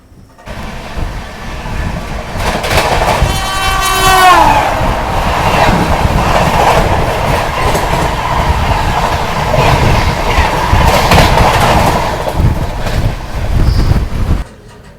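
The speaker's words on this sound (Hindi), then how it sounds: "फाइनली अभी ट्रेन अपनी निकल रही है मनोहरगंज रेलवे स्टेशन से" An Amrit Bharat Express pulls out of Manoharganj railway station, its wheels rumbling and clattering steadily and close by for the whole stretch, with a short squeal of wheels early on and wind buffeting the microphone.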